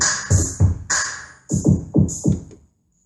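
Yamaha S80 keyboard synthesiser performance preset C1 playing a rhythmic sequence of short, punchy tonal stabs with bright upper layers, about eight hits over three seconds, loud and clear with no talking.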